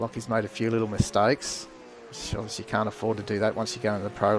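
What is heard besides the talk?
No everyday noise stands out behind the speech.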